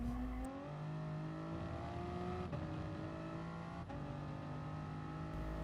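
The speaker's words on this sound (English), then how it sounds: "Guide your car to hit the apex and slowly start to accelerate your way through." A Toyota GR race car in Gran Turismo Sport accelerates through a corner on the Sardegna Road Track, its engine note climbing through rising revs with two quick gear changes, loud and alone.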